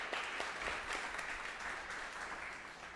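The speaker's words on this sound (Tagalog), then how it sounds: "Pumapalakpak ng the best kay Lord." A church congregation claps together during a sermon, a steady wash of applause from many hands, moderately loud and filling the room without pause.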